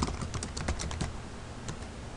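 Rapid keystrokes on a computer keyboard as a company name is entered into TeraCash 2011 software, a close, steady run of clicks with brief pauses and no talking.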